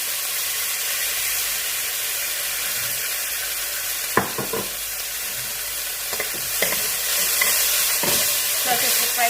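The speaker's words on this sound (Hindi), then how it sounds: "थोड़ा सा इसको फ्राई करेंगे। साथ साथ भी आपने इसको हिलाते रहना है।" Chicken pasta sauce with soy and chili sauce frying in a pan, a constant loud sizzle and hiss with several close scrapes and knocks from stirring breaking through.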